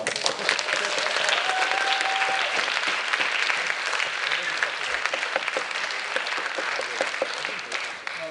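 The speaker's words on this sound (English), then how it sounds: "Let's give him one more round of applause." Steady audience applause after a TEDx talk in Shanghai, a dense, sustained round of clapping from a full room that holds evenly for about eight seconds before tapering at the end, with faint voices underneath.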